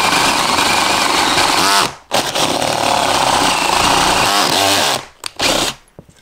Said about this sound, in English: Drill the countersink first.